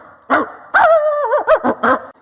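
A human voice imitates a dog barking repeatedly, a string of five or six short bark-like yelps with a drawn-out whine in the middle, close and loud with no other sound.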